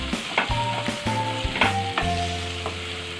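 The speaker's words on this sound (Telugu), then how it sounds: "దీన్ని బాగా ఇంకా వేయించుకోవాలండి" Raw banana pieces fry in a pan with salt and green chilli, a steady sizzle broken by repeated scraping stirs and clinks of the spatula, close and fairly loud with no voices.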